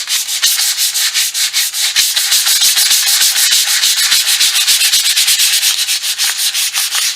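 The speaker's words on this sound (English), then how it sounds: "I'm going to lightly sand this just to get some of the" Continuous rhythmic scratching of lightly hand sanding a notebook cover to remove its sheen, quick back-and-forth strokes, close and loud with no talking.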